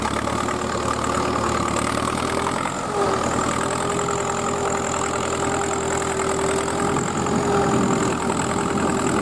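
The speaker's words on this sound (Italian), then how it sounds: "È una macchina, un trattore Fiat." A restored vintage Fiat 70R tractor, about 60 years old with a plough on the lift, idles steadily and loudly up close at a vintage tractor ploughing festival, its even mechanical drone carrying a slight knock and a brief dip near the middle.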